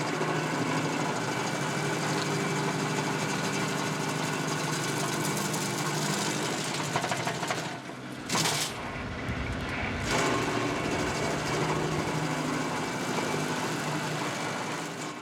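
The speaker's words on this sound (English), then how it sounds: "What you see here is me still experimenting with the best way to run the grinder." Tractor-mounted stump grinder chewing into a tree stump beside a building, a steady loud droning engine with constant grinding roar and a brief dip and surge midway, no speech.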